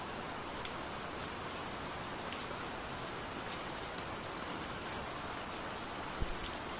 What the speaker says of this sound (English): Just water on the windows.